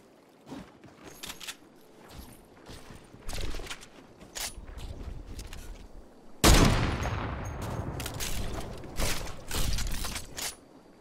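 Rifle fire crackles in Fortnite: scattered single shots and short bursts, mostly at mid distance, then a loud close blast that leaves a lingering rumble, followed by more sporadic shots.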